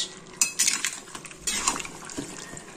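A lid clatters onto a cooking pot holding a hilsa-head ghonto with pumpkin and ash gourd: two distinct metallic knocks with a short rattle, close and moderately loud over a quiet kitchen background.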